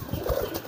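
A pigeon's wings clap sharply a few times in a quick burst, close by, with a soft coo-like murmur underneath.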